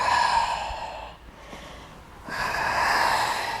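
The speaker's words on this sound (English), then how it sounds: "Deep breathing all the way through." Deep, audible breaths during a lo-fi leg stretch-and-release workout: a long breathy exhale, a brief quiet pause, then another full, airy breath, close and steady with no talking.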